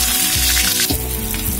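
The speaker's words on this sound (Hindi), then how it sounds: "पोटैटो को अच्छे से पूरा लाल होने तक मैं इसमें ही फ्राई करूंगी" Potatoes frying in mustard oil with spices in a hot kadai, giving a steady, loud, close sizzle that continues throughout with a brief stir-like disturbance partway.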